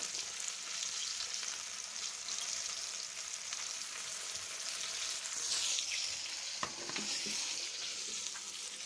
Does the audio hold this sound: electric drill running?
no